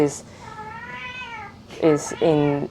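Several cats meow up close in an artist's studio, with a long drawn-out meow followed by a few shorter, louder calls.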